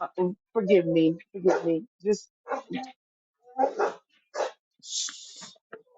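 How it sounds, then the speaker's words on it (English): A pet dog barks and whimpers briefly in the background while someone speaks in short bursts, with a brighter, sharper yip near the end. "I'm sorry, that's my dog."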